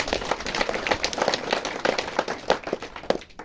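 A church congregation applauds its committee with steady, rhythmic clapping that carries on evenly throughout, moderately loud in a gathered room with no voices over it.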